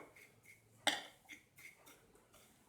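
Spices are mixed together on a plate, with faint scraping and a few light clinks of a spoon against the dish, one of them sharper and louder.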